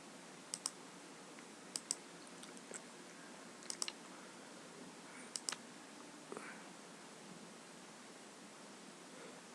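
Typing on a computer keyboard: small clusters of sharp, close key clicks arrive in brief bursts separated by pauses, over a faint steady hiss, with no talk.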